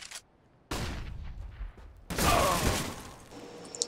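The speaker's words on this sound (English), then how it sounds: "That flashbang did wonders." A flashbang grenade goes off in the video game CS:GO, a sharp, loud burst with a ringing tail. It comes after an earlier muffled thump, and both sit close and without talk.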